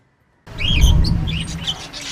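Pet lovebirds kept by a worker in Baguio City chirping, high thin tweets and squeaky calls over a low rumbling background noise, close and clear.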